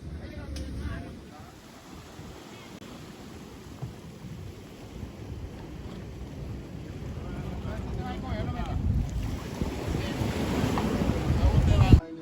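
A tour boat running across open sea off the Dominican Republic, its engine a steady low rumble under buffeting wind and water noise that grows louder toward the end, with no talking.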